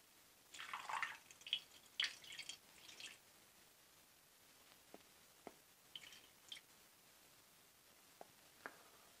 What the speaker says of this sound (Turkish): Döktüğümüz yapıştırıcı kadar su dökeceğiz arkadaşlar.